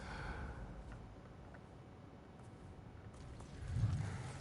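Hooves clip-clop in a steady gallop as the horse Kage runs in the video game Ghost of Tsushima, moderately loud over soft ambient game sound, with a brief louder swell near the end.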